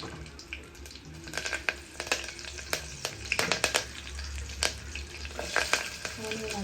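Mustard seeds, cumin and curry leaves crackle and sizzle in about two tablespoons of hot oil, with sharp irregular pops and spatters over a steady frying hiss, close and fairly quiet with no talk.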